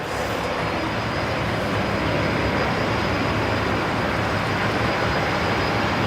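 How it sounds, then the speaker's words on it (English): A Dash 8 Q400 turboprop starts its engines during pushback at Brisbane Airport, a steady, dense roar with a thin high whine running through it, loud and unbroken throughout. "the Dash 8 Q400 there, just on pushback, push and start."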